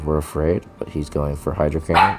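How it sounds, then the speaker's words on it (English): A dog barks off-mic during commentary on a Pokémon GO Fusion Cup battle, its short yaps tucked between and under steady nearby talk. "Sorry about the dog."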